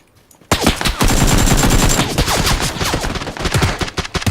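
Rapid bursts of automatic gunfire crackle through a video game firefight after a short quiet start, dense overlapping shots continuing loud and close to the end.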